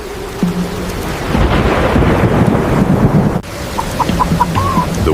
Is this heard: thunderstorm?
yes